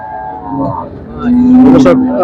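A cow at a rural cattle market lets out a loud, close, drawn-out moo that rises and swells over about a second, with brief crowd murmur and voices just before it.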